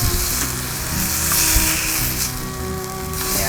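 Bison smash burgers sear over hot coals, giving a loud, steady, close sizzle that crackles without pause.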